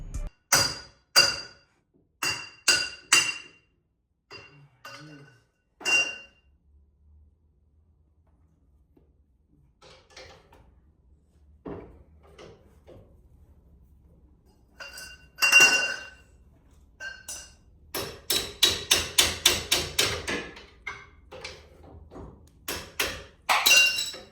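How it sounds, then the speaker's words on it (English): Heavy metallic blows beat a steering knuckle out on a Ford Focus ST during a wheel bearing and knuckle change, in clanging bursts, first spaced then a rapid volley of close, ringing hits. "You're really gonna have to use some force to beat this thing out"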